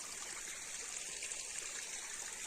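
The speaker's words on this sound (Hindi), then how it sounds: "बहुत पानी आ रहा है भाई, बहुत ही ज्यादा" Water flowing steadily along a stream and collecting in one spot, a continuous hissing trickle with no talk, fairly faint and even throughout.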